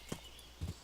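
Hooves of a horse in the game Kingdom Come: Deliverance, two soft thuds about half a second apart, close and fairly quiet over a faint background.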